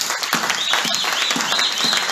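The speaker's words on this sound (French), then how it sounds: "Est-ce qu'on peut acclamer pour le Seigneur?" Audience clapping and cheering at a church teaching service in Istanbul, a steady wash of applause that stays loud and continuous throughout.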